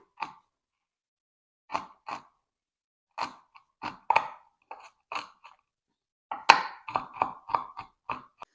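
Walnuts being chopped by hand for a Ukrainian cheese Easter bread (paska), kept in fairly coarse pieces: separate crisp knife chops and crunches, some single and some in quick clusters, close up with quiet gaps between them and no talking.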